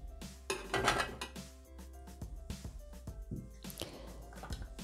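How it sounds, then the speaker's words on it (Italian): Apples dropped into a Thermomix TM6 mixing bowl while preparing apple puff pastries, giving a series of close, hard knocks and clattering thuds in a kitchen with no talking. "Iniziamo la ricetta mettendo all'interno del boccale le mele."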